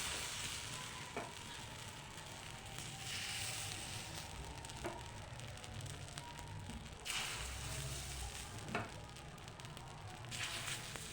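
Hot oil sizzles and crackles steadily in a preheated pitha mould, a dense close frying hiss with a few brief clicks and pops, no voices over it.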